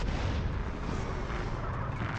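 Booming explosion in GTA San Andreas, a dense, loud burst of low rumble and crackle that fills the whole moment without pause, with no talking over it.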